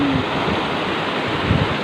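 The Tignoan river flowing by the riverbank, a steady, full rush of water that stays constant throughout with no voices over it.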